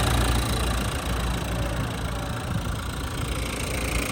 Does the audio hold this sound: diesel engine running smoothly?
yes